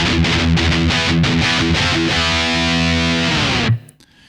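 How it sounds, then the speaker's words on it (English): A heavily distorted electric guitar through a simulated Mesa Boogie Rectifier high-gain amp plays chugging chords and sustained notes, loud and dense, then cuts off abruptly near the end. "This is a simulation of a Mesa Boogie rectifier, an amp that's very well suited for high gain sounds."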